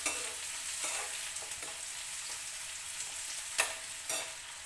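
Chopped onion sizzles in oil in a pan as it is stirred, with a steady frying hiss and occasional louder scrapes of the spoon, close up and without talk.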